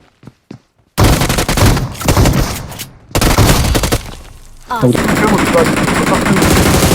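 Video game gunfire from a competitive shooter match: rapid automatic bursts and single shots crackle loudly in dense volleys after a brief quiet start, nearly continuous across the clip.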